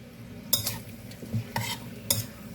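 Shrimp and chicken are stirred in a hot pan over high heat for low-sodium ramen, with a soft sizzle underneath and a few sharp utensil scrapes and clinks against the pan, close and without speech.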